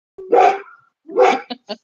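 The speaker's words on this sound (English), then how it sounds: "they hear the neighbors. They're going to start barking." Dogs bark indoors at neighbours they hear: two long, loud, close barks followed by two short, sharp yips.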